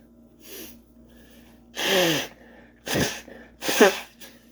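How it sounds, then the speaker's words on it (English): A person sneezes repeatedly, several loud, close bursts with sharp intakes of breath, separated by brief quiet pauses. "Stop fucking sneezing."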